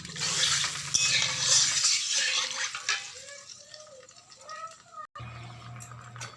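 Potato and rohu fish curry gravy bubbling in a pot, a steady close hiss and seething roll with soft spatter, fading to quieter simmering with scattered pops before a brief cut.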